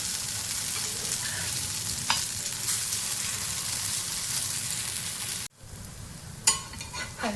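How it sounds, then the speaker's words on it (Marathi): Mung dal and vegetable tikki fry in a pan with a steady, close sizzle. Near the end it cuts off briefly, then resumes with a few sharp clatters. "पाहू शकता खूप छान प्रकारे बनलेली आहे मुगाच्या डाळीची आणखी भाज्यांची टिक्की"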